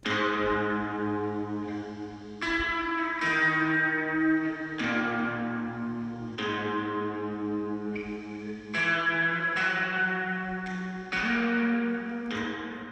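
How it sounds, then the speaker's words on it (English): Electric guitar plugged direct into a Heavenly Tweed amp with gain, tone, reverb, echo and modulation turned all the way up plays a slow run of ringing notes and chords, each swelling with long, washy echo tails. "I use Heavenly Tweed, and I just plugged my guitar in, direct input"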